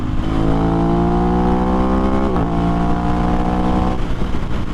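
An Aprilia RS660 sport bike ridden on mountain roads, its engine note loud and close as it rises steadily through the revs, dips briefly at a shift, then climbs again before the throttle eases off.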